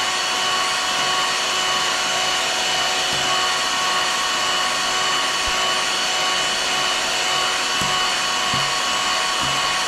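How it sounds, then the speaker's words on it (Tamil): An electric mixer whips egg whites with sugar and vinegar for a coffee cake, giving a loud, constant high-pitched motor whine that runs unbroken throughout with no voices. "இப்போ நல்லா இந்த வெள்ளைக்கருவை நல்லா அடித்து எடுத்துட்டேன்"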